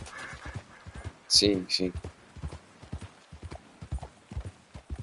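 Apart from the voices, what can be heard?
horse hooves in video game Red Dead Redemption 2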